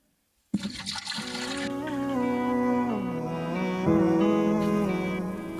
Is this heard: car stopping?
no